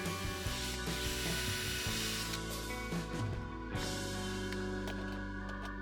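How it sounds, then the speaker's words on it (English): Continuous scraping and grinding as the inside of a soft metal air compressor shell is trimmed out with a tool, steady and close with dense harsh texture and no talking. "The shell is soft metal, so we trim the inside out."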